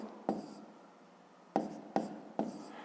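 Numbers being handwritten on paper during a fifth-grade math exercise: four short scratchy pen or chalk strokes, each a brief bursty scrape, separated by pauses, close and fairly quiet with no talking.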